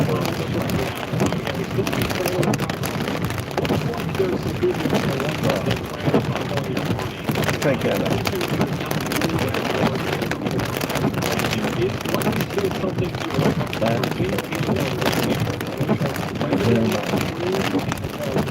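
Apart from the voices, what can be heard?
heavy rain during severe thunderstorm storm chase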